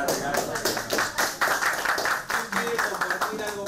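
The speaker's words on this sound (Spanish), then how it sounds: "Un aplauso." Audience applause at a Spanish-language gathering, a steady patter of hand claps with irregular bursts, fairly close and moderately loud, with voices mixed in underneath.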